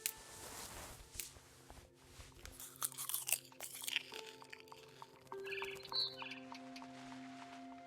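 Crunchy chewing and biting sounds from eating in the video game What Remains of Edith Finch, close and fairly quiet, with faint bird chirps and ambient game sound around them.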